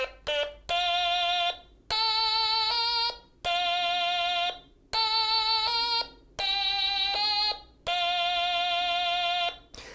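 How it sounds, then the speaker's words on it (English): A stylophone played by touching its stylus to the metal keyboard gives bright, buzzy, reedy electronic tones in six short melodic phrases separated by brief silences, loud and alone. "As you touch the stylus to the surface, it makes a sound like this."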